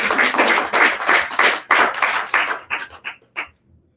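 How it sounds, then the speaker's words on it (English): An audience claps for Charlene at a red carpet event in Baltimore, a burst of applause that is loud and close at first, then thins into a few scattered claps before fading out. "So let's have a round of applause for Charlene one time."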